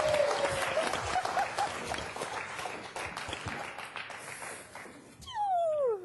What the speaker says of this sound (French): Marie-Antoinette, très applaudie